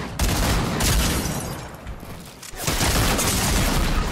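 Continuous rapid gunfire from a battle royale shooter game in random duos mode, loud and dense with bursts of shots layered over each other, briefly thinning near the middle before resuming at full intensity.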